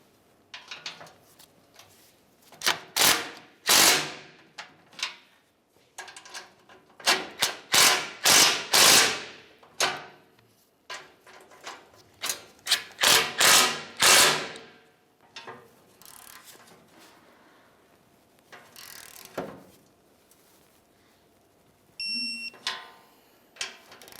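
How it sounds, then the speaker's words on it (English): A ratchet tightens the rear bumper mounting bolts on a 2005-2010 Dodge Dakota, with rapid clicking in repeated close bursts separated by short pauses. "we'll continue on by snugging it up and then torquing it to 40 foot-pounds"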